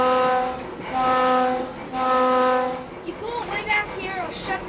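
Horn of a MARC Budd rail car on a 1988 Santa Claus special between Harpers Ferry and Brunswick, two long loud blasts over the idling train, followed by people talking nearby.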